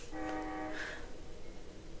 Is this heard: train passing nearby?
yes